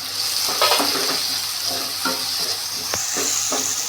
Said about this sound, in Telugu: ఇప్పుడు తెల్లవాయలు, అలాగే అల్లం కొద్దిగా 2 మినిట్స్ అట్లా మగ్గబెడతాం.